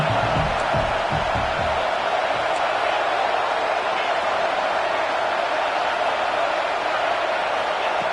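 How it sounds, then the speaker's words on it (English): A football video game stadium crowd at a playoff game at Nebraska gives a steady, loud roar, an unbroken wash of cheering with no pauses. "The crowd really making some noise now, trying to help out this defense to get this stop near the goal line."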